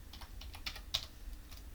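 Keys on a computer keyboard tapped in an irregular run of light clicks, one slightly louder stroke in the middle, close and fairly quiet, with no talking.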